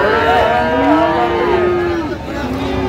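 Cattle on a dairy farm holding Sahiwal and Friesian bulls and calves, a loud, close, drawn-out moo that wavers in pitch across three seconds, followed by a shorter second call, no talking.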